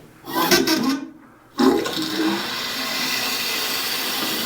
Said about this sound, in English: Getting water. Yep. Water's in.